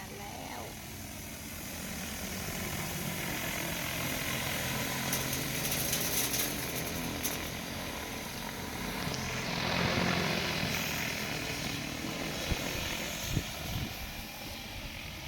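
An agricultural drone spreading fertilizer over a rice field gives a steady, distant rotor drone that swells and fades over open air, with a person talking throughout.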